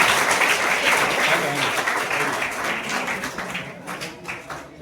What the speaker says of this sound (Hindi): इस बच्ची के लिए जोरदार ताली दीजिए